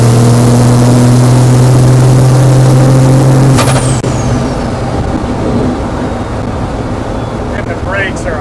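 A loud Cummins-swapped 1963 Chevy C60 truck engine hums steadily on the highway, then a sharp hiss of air brakes cuts in, followed by rumbling road noise and faint chirps.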